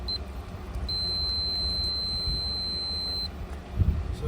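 A continuity tester checking a car wire gives a steady high-pitched beep lasting a couple of seconds, preceded by a brief chirp, over light wind noise outdoors.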